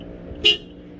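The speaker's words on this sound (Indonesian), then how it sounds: "Sebelum itu bunyi klaksonnya kayak gini" A single short car horn toot from a Toyota Kijang Innova sounds close by, a brief bright blare against an otherwise quiet background.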